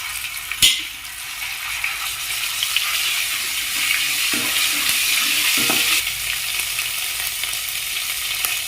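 Ground masala paste for an egg masala curry fries in hot oil with a strong, steady hiss and sizzle, opening with one sharp knock and then a few soft stirring scrapes.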